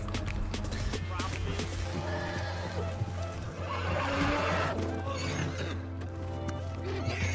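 A horse whinnies in the Red Dead Online video game amid busy game sounds, the neigh rising out of a dense mix of hoofbeats and background noise, with a low steady hum underneath.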